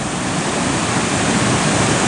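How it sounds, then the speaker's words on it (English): Loud, unbroken roar of water cascading into the ruined chamber of the old Asfordby Lock on the Melton Navigation, a dense, steady rush close by with no talking. "you can clearly see the lock chamber ahead of us there and the water cascading into it"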